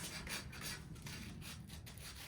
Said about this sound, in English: So I'm going in, I'm sanding any of the smudged areas.